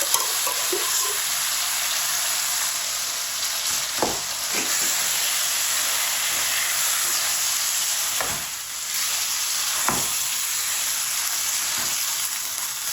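Turnip and spinach frying in spices over medium heat, a steady broadband sizzle with occasional spoon stirs and scrapes, close and fairly loud without speech.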